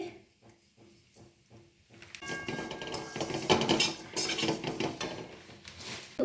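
A spoon scraping and clinking against a pan as sugar is added to semai vermicelli being fried on low heat, a few soft rhythmic taps at first, then louder busy metallic stirring and scraping close by.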